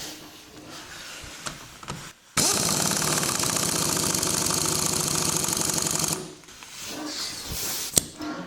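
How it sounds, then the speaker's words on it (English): A short, loud continuous buzzing whir from an impact wrench tightening a nut on a scooter during belt and roller replacement, lasting about four seconds between quieter workshop noise. "I'm pretty sure this impact wrench is set up for 50 Newton meters of torque."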